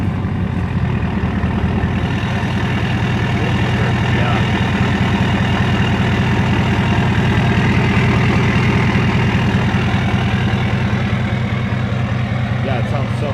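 A big truck idles through a huge exhaust tip, its deep, steady low rumble loud and continuous throughout, with faint voices talking over it.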